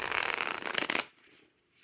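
Linen-finish tarot cards riffle-shuffled up close, a dense crisp fluttering burst lasting about a second that ends abruptly, followed by faint soft handling.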